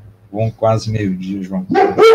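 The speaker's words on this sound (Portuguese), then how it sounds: "desculpem o cachorro aqui latindo." A dog barking indoors during a live stream, short yips and barks mixed under a man's steady speech, moderately loud and close.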